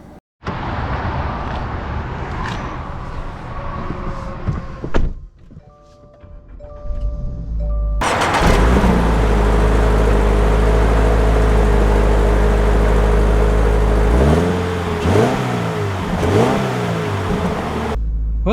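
A 2024 Toyota 86 Trueno Edition sports car starts off and drives away, its engine revving loudly up close after a short chime, then holding a steady drone with a few shifts and swells.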